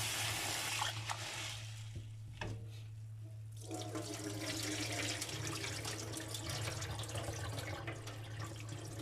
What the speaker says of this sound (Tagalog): Hugasan po natin yung ating munggo.